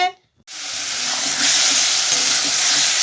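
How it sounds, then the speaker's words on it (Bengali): Onion and garlic hit a hot pan in a home kitchen and burst into a loud, continuous sizzle after a brief near-silent moment, staying close and steady throughout. "আজকে কষাচ্ছি পেঁয়াজ রসুন আরও তো দিয়েছি"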